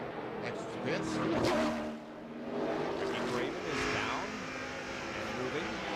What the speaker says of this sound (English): Another big pack of cars will come in this lap.